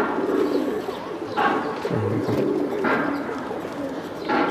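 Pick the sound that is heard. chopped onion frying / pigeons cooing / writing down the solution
pigeons cooing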